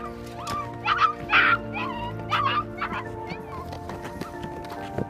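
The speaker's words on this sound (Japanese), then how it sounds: "2匹の犬が鳴いていました。" Two dogs stranded in a reservoir whimper and yip in repeated short, high cries with a few barks, fairly close over steady background noise and machine hum.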